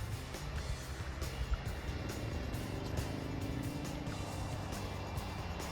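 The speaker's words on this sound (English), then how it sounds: "Sound of vehicles in the background." Vehicles pass on a road below a hillside trail near Loch Lomond, giving a faint, continuous low rumble of traffic that rises and falls gently in the background, with no talk.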